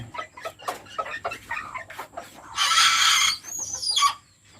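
Chickens cluck repeatedly in a series of short, close calls, building to a louder, sustained squawk near the end, with a faint steady hum underneath.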